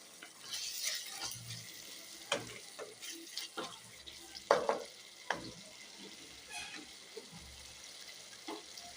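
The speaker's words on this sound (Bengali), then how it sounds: "এবার এটার মধ্যে ভালো করে মশলাটা মিশিয়ে নেব। দেখো বন্ধুরা, তেল কিন্তু ছাড়তে আরম্ভ করে দিয়েছে" Spice masala for chana masala fries in oil while being stirred. A soft sizzle runs underneath, broken by scattered scraping and clinking strokes of the spoon against the pan.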